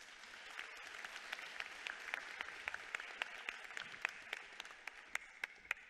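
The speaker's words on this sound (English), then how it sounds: "Another round of applause" At a 2024 matric results announcement, an audience claps. The applause is faint and distant, with a scattered rhythm of individual sharp claps standing out over a soft, continuous wash.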